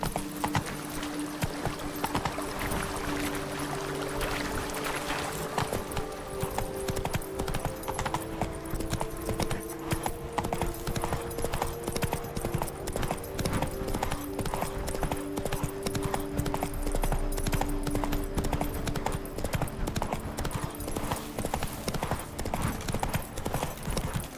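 Roach the horse gallops in The Witcher 3, a steady, rapid clip-clop of hooves running on and on over game music, with a brief whinny and some faint speech.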